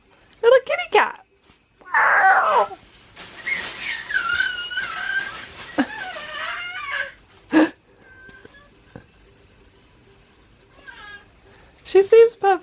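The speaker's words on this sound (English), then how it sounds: "She's just got this new like cat scream going on." A cat lets out several loud, strained screeching meows in short bursts, with soft talking and quieter pauses between the cries.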